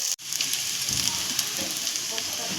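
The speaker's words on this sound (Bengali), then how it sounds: "এখানে পেঁয়াজ, আদা, রসুন আমি দিয়ে দিয়েছি। এগুলো একটু লাল লাল করে ভেজে নেব।" Onion, ginger and garlic frying in a pan, a steady loud sizzle with crackling throughout, heard close up without talk.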